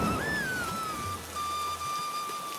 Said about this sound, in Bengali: একদিন রাতে বৃষ্টি হয়।